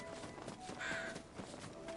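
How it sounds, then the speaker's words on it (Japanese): A crow cawing in the game Final Fantasy XVI, a short harsh call rising briefly out of a faint, noisy ambient bed, heard once, at moderate distance, with no speech. "カラス。"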